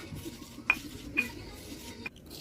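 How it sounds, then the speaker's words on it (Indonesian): Pepper, garlic and chopped onion are crushed in a mortar for chicken nugget seasoning, producing a few sharp, close knocks and clinks over quiet scraping, with no voices. "Dan ini bawang bombay cincangnya kita masukkan, kita ulek, nggak perlu sampai halus"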